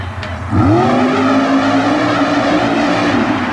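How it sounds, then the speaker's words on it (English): Fuel-injected, nitrous-injected 1930 Ford Model A super modified mud racer launching off the line at an indoor coliseum event, a loud sudden engine roar that climbs steeply in pitch and holds a sustained howl. "The fuel-injected, nitrous-injected 30 Ford A leaves the line"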